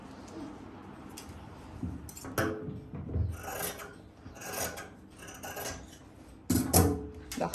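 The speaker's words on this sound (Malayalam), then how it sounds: "ഇപ്പോൾ സ്ലീവ്സും കൂടെ ഒന്ന് കട്ട് ചെയ്ത് എടുക്കാം" Scissors cut through cloth for the sleeves of a top with a steady rasping, crunching rhythm of close, repeated snips and fabric rubbing, and no talk over it.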